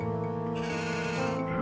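A sheep bleats in Hexen 2, a single drawn-out, wavering bleat heard clearly and alone against steady game ambience.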